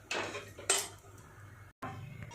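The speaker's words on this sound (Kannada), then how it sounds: "ಓಕೆ, ಕುಕ್ಕರ್ ಮುಚ್ಚಳ ಹಾಕಿದ್ದೀನಿ" Metal pots clink and a pressure cooker lid clatters into place, giving a few sharp, close knocks in a quiet kitchen.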